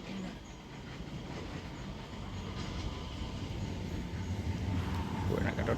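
A train passes in Shiraishi, Japan, its low rolling rumble swelling gradually louder over several seconds against outdoor background noise.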